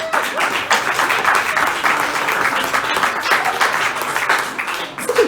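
An audience at a book-launch poetry reading applauds in a loud, sustained burst of many hands clapping, filling the room throughout.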